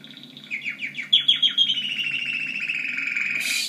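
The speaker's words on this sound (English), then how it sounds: "Stupid bird." A bird in the video game Heavy Rain chirps nearby, giving a quick series of bright rising tweets that speed up into a sustained trill, loud and clear against a quiet background.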